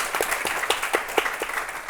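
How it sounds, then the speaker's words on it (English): Audience clapping at a community parenting event, a steady smattering of hand claps from a modest crowd, moderately loud and continuous for a couple of seconds. "So round of applause for that,"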